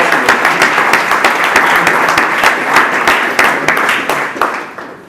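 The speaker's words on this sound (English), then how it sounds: "So I would say a big applause for all this wonderful team" An audience at a FuturICT 2.0 forum applauds loudly, a dense, sustained burst of many hands clapping up close, tapering slightly at the end.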